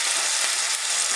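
Sausage and ground beef fry in a pan with a dense, steady sizzle that holds loud and close throughout, with no pauses and no voices.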